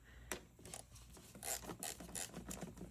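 An 8mm socket works the air intake clamp on a 2003-2004 SVT Cobra Terminator, giving a string of faint, close rasping ratchet strokes in a quiet garage.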